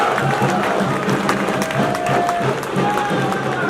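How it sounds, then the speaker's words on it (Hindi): Loud applause fills a Congress party public rally in Badli for Devendra Yadav, a dense and steady wash of crowd clapping throughout with voices over it. "जोरदार तालियों से देवेंद्र यादव जी का स्वागत"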